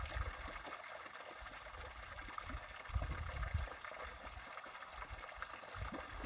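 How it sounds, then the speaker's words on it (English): Steady background water trickle and gurgle runs continuously and fairly faint, a soft liquid wash with occasional low bumps and no talking. "With that dope ass water sound in the background."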